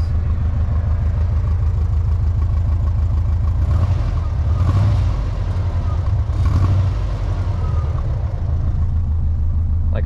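A 2004 Volkswagen Beetle Ultima Edition idles steadily with a low, even engine hum, close by and fairly quiet, with no one talking.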